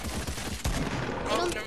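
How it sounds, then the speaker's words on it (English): In a Fortnite match, a sniper rifle fires a no-scope shot, a sharp loud crack midway through followed by a short rumbling tail. "I'm gonna no-scope him"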